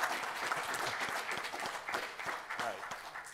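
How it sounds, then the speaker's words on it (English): Conference audience at DrupalCon Baltimore 2017 breaks into lively applause with whoops and cheers, uneven bursts of clapping layered over scattered voices and a person talking nearby. "applause."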